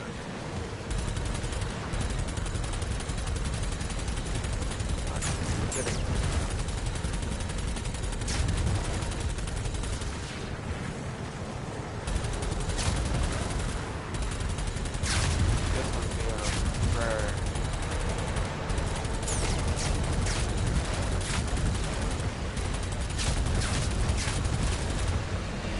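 Sustained weapon fire in Doom: The Dark Ages on PS5, dense overlapping bursts and impacts forming a constant loud barrage for about twenty-five seconds, with occasional sharper blasts and someone talking over it.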